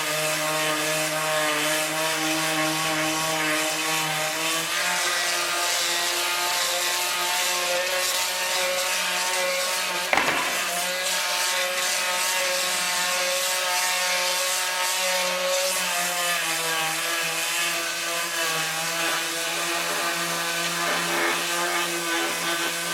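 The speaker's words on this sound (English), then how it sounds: "I'm going to sand one of these down and show you how much of a difference it makes when you sand them." A power sander works pallet wood in a continuous loud, steady whine with a tonal drone, running alone throughout with one brief knock partway through.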